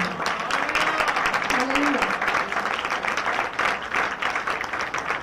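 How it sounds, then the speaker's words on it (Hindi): A church congregation at a Sunday women's service breaks into loud, sustained applause, a thick wash of clapping that holds steady throughout, with a voice briefly carrying over it. "खुदा के दुआ के लिए जोरदार ताली"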